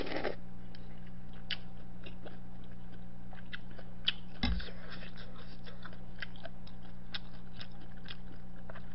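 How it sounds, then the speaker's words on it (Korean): Close, steady chewing and biting of Korean sundae blood sausage dipped in salted shrimp, with soft wet crunches repeating through a quiet room and no talking. "순대를 새우젓에 찍어 먹는 거 맛있다."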